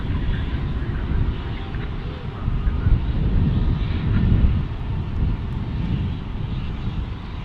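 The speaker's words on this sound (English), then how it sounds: "All right, another heavy here, Dreamliner." A heavy Boeing 787 Dreamliner jet passing at Dallas Fort Worth International Airport, a loud sustained engine roar with wind buffeting, swelling slightly in the middle and holding steady throughout.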